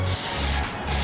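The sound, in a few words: spraying Plasti Dip onto a motorcycle helmet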